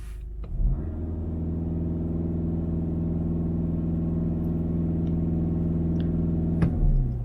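A VW Golf MK7 (5G) with a DSG gearbox sits in park, its engine held at a steady raised drone for several seconds at close range, with no talking.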